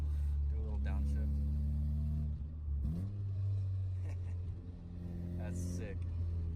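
A brand-new car's engine, fitted with an aftermarket IRP shifter, drones loudly from inside the cabin and rises sharply in pitch as it revs during a downshift, with people talking over it.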